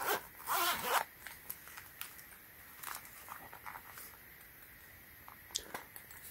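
The zipper on the carrying case of a 23-piece lock pick set is pulled open in one quick, close rasp, followed by soft handling clicks and rustles.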